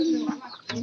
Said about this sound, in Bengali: পায়রাটার ডাক কিন্তু অনেকটা ভালো আছে